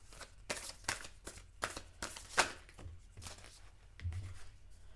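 Tarot cards are shuffled in a series of quick riffling bursts, close and fairly quiet, with short pauses between each pass.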